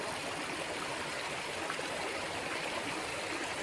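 A foothill stream runs over rocks, a steady, moderately quiet rush and babble heard close at hand with no voices.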